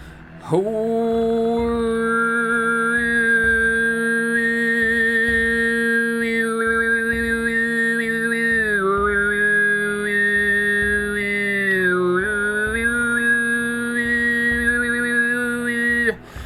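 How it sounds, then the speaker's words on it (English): Solo Tuvan overtone singing: a steady low throat drone carries a piercing whistle-like overtone that glides up and down in a slow melody, held unbroken for about sixteen seconds. "So overtone singing on its own sounds like this."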